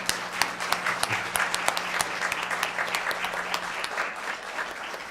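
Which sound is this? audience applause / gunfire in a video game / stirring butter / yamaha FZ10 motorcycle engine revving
audience applause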